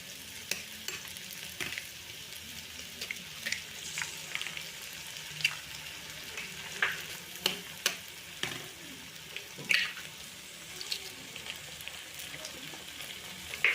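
An egg fries in a pan with Maggi noodle masala for a Maggi dish, a low steady sizzle broken by scattered stirring scrapes and clicks of the spatula against the pan.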